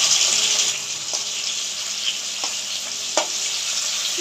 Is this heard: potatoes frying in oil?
yes